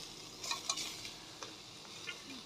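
Tomato dropped into a frying pan for a coconut-free chutney base makes a faint, quiet sizzle with a few light stirring clinks and scrapes.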